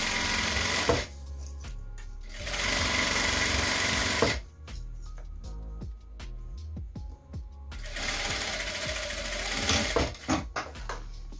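A sewing machine runs in bursts along the sides of a fabric basket piece, with short backstitches at the start and end of each seam; loud whirring runs alternate with quiet pauses and small clicks, and no one speaks.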